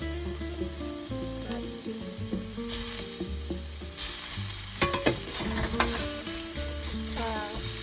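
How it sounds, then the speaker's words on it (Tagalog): Ground pork stir-frying in a pan for sautéed squash (ginisang kalabasa) gives a busy sizzle with repeated scraping and clattering of the spatula. It gets louder midway, and tonal background music plays underneath. "lagyan natin ng konting giniling"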